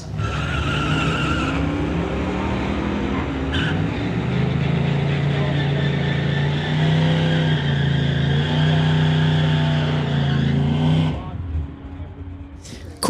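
A Pontiac and a Corvette launch side by side at a street-legal drag race, engines roaring loudly and climbing through the gears in a long, sustained run before cutting off near the end.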